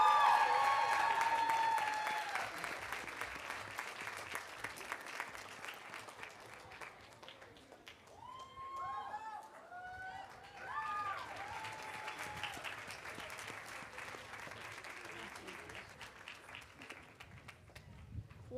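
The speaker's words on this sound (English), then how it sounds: "One more big round of applause for all of our graduates." Big round of applause from the audience for graduates at a health sciences class day ceremony, steady crowd clapping filling the hall with some cheering whistles partway through, tapering slightly toward the end.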